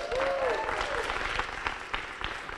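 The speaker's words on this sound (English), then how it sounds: "give a cheer if you've done more than just giving a vote" A young audience at an election rally about youth voting breaks into loud cheering and clapping, a dense continuous roar of applause with high whoops rising over it.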